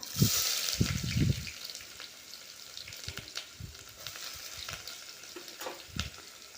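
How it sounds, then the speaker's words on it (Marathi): Onion sautés in oil with cumin and a few whole spices for pulao, giving a continuous soft sizzle near the mic, punctuated by low clanks and scrapes of a spoon stirring the pan, with no voices. "कांदा टाक टाकून घेणार आहोत छान आपल्याला असा परतून घ्यायचा आहे"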